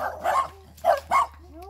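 A small dog gives several sharp, close yips and barks in quick bursts, with a short gap between the first and the last pair, and faint whimpering at the end.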